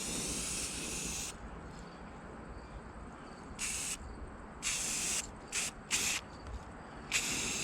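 Short bursts of aerosol spray paint hiss on and off, several quick sprays of varying length against a low background rumble.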